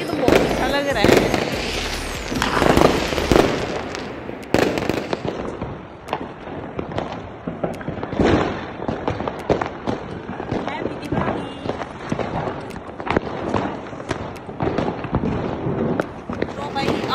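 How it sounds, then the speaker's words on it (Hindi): Diwali firecrackers and fireworks burst in loud, sharp bangs and crackling volleys from a rooftop, some close and some farther off, with people talking in between. "अब अपनी कार्रवाई चालू करेंगे पटाखों की"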